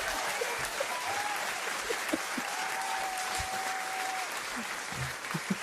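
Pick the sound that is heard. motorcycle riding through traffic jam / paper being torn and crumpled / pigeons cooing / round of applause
round of applause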